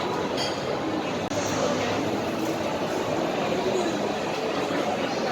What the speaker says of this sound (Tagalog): Nandito na tayo sa train.